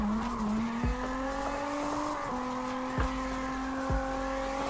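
Drift car with an RB engine in the CarX Drift game, a steady high engine drone holding pitch with brief tire squeal chirps at intervals, no talk.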